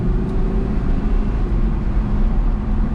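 A 2020 Audi R8 Decennium V10 idles with its exhaust valves closed, a steady, low, even rumble heard close up with no talking.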